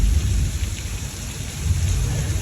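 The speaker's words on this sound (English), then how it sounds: "Susie, because these raindrops are still larger than mine, let's go ahead and turn it off for our Sandy." Artificial rain effect at a Universal Studios Hollywood show, a loud steady downpour of dense hissing splashes with a low rumbling undertone, continuous throughout and no voices.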